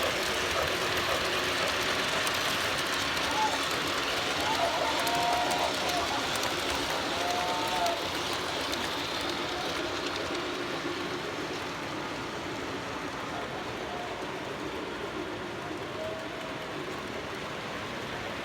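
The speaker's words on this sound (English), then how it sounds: "I think we now have 5 trains going at once." Steady broad rumble of five trains running on rails at once, a continuous layered roar with faint tonal squeals rising and fading, fairly loud throughout.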